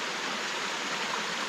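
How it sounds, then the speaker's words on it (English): Cold mountain stream rushing over rocks at a trail water crossing in the Great Smoky Mountains, a steady broadband wash of flowing water, close and even, with no voices. "We're at another water crossing here."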